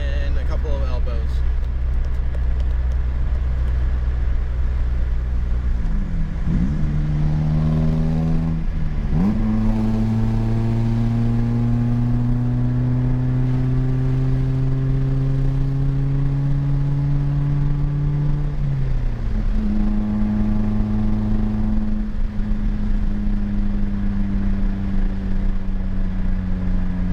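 Car fitted with a straight pipe in place of its catalytic converter, new flex pipe and elbows, revving hard in several rising and falling bursts, loud and raspy, with a voice talking over the engine throughout.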